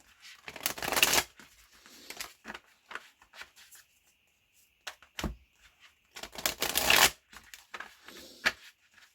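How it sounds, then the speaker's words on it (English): Tarot cards being shuffled and pulled, two bursts of close riffling shuffles separated by quiet gaps, with light card slaps and handling sounds between. "I'm just going to pull a tarot, one tarot on each of these cards."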